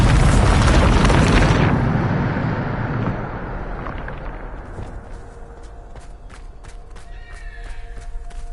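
A Bombarda spell explosion in Hogwarts Legacy: a loud, roaring blast that fills the first couple of seconds, then a long rumbling decay fading into quieter debris and ambient clatter.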